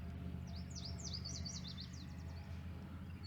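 A single bird sings outdoors at dusk as a storm gathers, a quick string of thin, bright warbling phrases heard at a moderate distance over a low steady background rumble.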